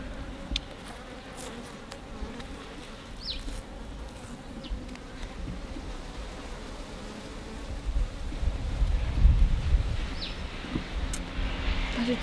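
Honeybees buzz steadily around a hive infested with wax moth and beetles, a dense, even drone with a few louder passes near the end.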